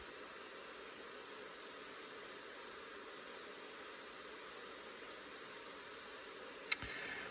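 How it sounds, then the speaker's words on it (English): Faint, steady ticking of a 1917 Hamilton 974 pocket watch movement, quick and evenly spaced, heard up close over soft background hiss, with one louder click near the end. "is a lovely, soothing sound of a Hamilton 974 movement ticking."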